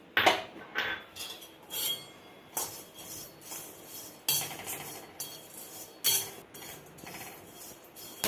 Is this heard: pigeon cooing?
no